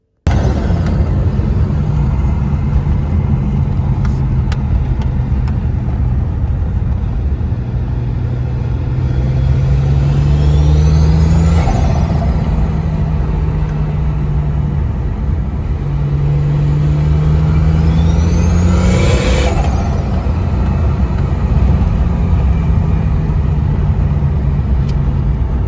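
Turbocharged engine with its compressor surge holes welded shut, revving twice so the turbo whistle rises and then falls each time, over a steady loud rumbling idle with no talk.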